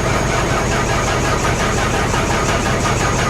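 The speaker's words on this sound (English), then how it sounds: "We should not be cranking this car." A 2021 Hyundai Venue with water in its engine cranks continuously under a booster pack, a steady, loud, labored mechanical churn that runs unbroken for the whole stretch with no catch or start.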